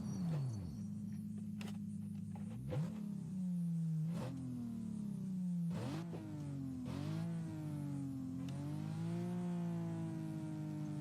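Toyota car engine in the Project Cars racing game revving and accelerating through repeated gear changes, the pitch climbing, dropping at each shift and climbing again, loud and steady throughout with no talk.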